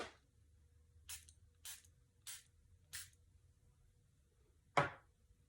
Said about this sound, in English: in this case I might spray it a little bit just to get it going